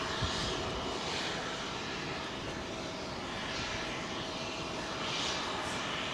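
A long-haul jet aircraft at London Heathrow, a loud continuous engine roar with broad rushing noise, steady and close throughout.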